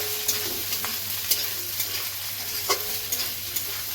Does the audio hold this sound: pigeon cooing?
no